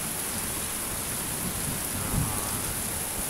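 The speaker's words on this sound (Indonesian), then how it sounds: "Nah, disertai angin guntur," Heavy rain pours down in a dense, constant roar, with a low rumble of thunder swelling briefly midway, steady and close with no voices.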